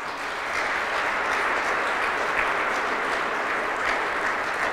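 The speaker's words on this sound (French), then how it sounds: "Ministre responsable de la Société d'assurance publique du Manitoba, on l'applaudit. Ministre Wiebe." A crowd applauds a Manitoba cabinet minister at an International Day of the Francophonie celebration, steady sustained clapping from many people filling the room at moderate volume throughout.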